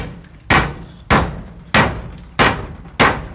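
Nails are driven by hammer during a home kitchen extension, five sharp, loud strikes spaced roughly half a second apart, each a crisp impact with a short ringing tail.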